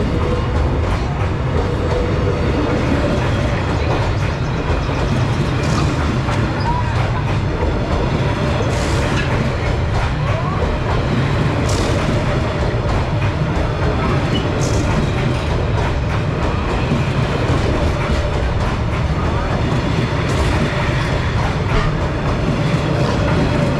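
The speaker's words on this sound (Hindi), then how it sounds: "ट्रेन यहाँ से सिर्फ कुछ ही सेकंड्स में गुजर जाती है" A train rolling through Hanoi's narrow train street, a loud, continuous rumble close by with rhythmic clacking wheels and occasional sharp squeals, no voices.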